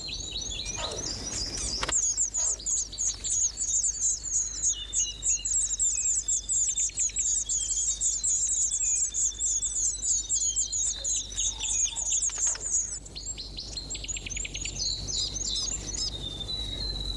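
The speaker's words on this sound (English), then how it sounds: "This nest belongs to a silver-eye. It's an adaptable little bird found throughout New Zealand." Silver-eye birds chirping at a nest in a New Zealand beech forest, with rapid high twittering calls repeating almost without pause and a few louder chirps rising nearby.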